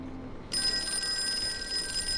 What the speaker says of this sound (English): answer the phone that's ringing